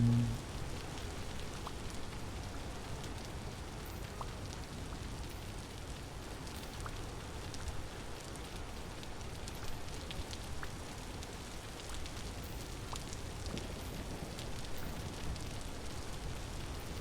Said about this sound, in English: Man, the rain is relentless today.